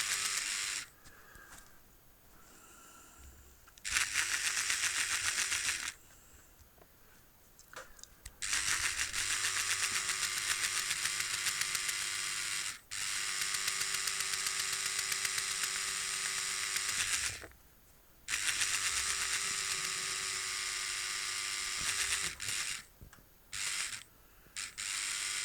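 Small model locomotive with freshly cleaned wheels whirring and clicking through its gears in long bursts, running briefly then stopping repeatedly, the mechanism buzzing loudly close to the listener with quiet gaps between runs.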